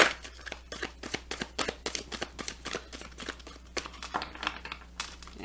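A deck of tarot cards is shuffled by hand, a rapid series of crisp riffling and slapping bursts repeating steadily throughout, close and fairly quiet with no talk.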